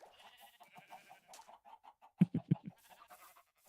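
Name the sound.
chicken clucking in Minecraft video game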